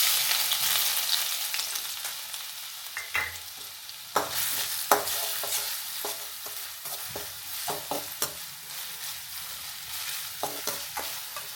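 Finely chopped onion fries in oil with a steady sizzle, while a spoon scrapes and taps the pan in irregular clicks, close up and with no talk.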